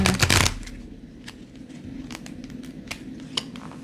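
Stiff, laminated tarot cards are shuffled, opening with a loud riffling burst, followed by scattered crisp snaps and flicks as the deck is worked by hand.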